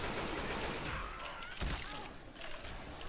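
Rapid gunfire from the Left 4 Dead 2 video game during a frantic finale, a dense continuous volley of shots with a heavy thump midway, mixed with game noise.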